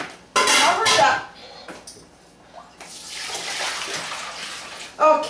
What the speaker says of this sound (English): I'm just going to take the lobster, the whole lobster, head first into the water, cover it up